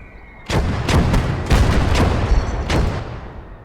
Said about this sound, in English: That's the mortars as well.